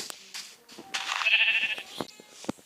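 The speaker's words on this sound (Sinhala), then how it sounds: "අපිට බැටළු ටිකක් ඉන්නවා boys." Sheep bleating in the video game Minecraft, a few short calls over a busy mix of game sounds and other noises, moderately loud and close.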